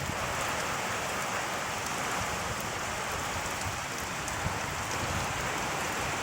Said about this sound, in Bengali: দেখো আমাদের এখানে কত জোরে বৃষ্টি নেমেছে সঙ্গে হাওয়া দিচ্ছে